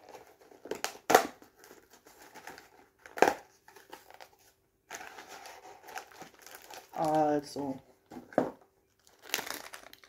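A plastic bag crinkles and rustles as it is handled and opened, with several sharp bursts of crackling between quieter stretches, close by, while a person talks briefly.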